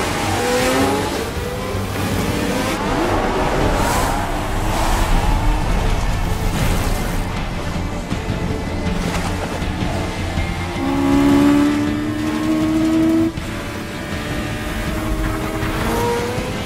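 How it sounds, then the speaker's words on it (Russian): A 450-horsepower racing car engine roars loudly throughout, with rising and falling pitch sweeps as cars accelerate and pass in a race scene, several engines overlapping without any talk. "В таких условиях должно быть почти невозможно управлять машиной мощностью"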